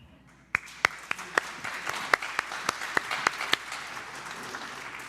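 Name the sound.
congregation applause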